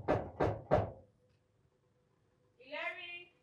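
Three firm, evenly spaced knocks on a door, loud and close, then a pause before a person starts speaking.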